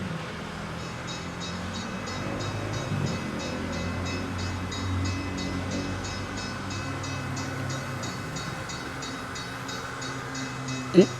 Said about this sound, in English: Oh, miniature train set back here.